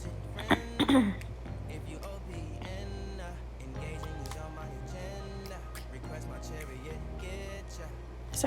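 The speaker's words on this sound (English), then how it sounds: "Sorry if you guys keep hearing me clear my throat." A woman clears her throat in a couple of quick, close rasping bursts near the start, then carries on talking quietly over soft background handling sounds.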